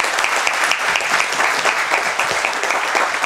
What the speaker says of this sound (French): Merci à Roger, un grand applaudissement.